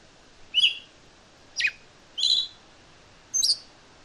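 A scaly thrush calls in the wild, giving four short, clear chirping notes spaced about a second apart over a quiet background.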